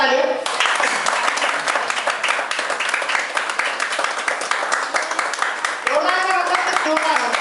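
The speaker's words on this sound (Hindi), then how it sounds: "इनके लिए एक बार जोरदार तालियां।" An audience at a Modicare presentation gives loud, sustained applause for a volunteer. Dense clapping runs throughout, with a voice speaking over it near the end.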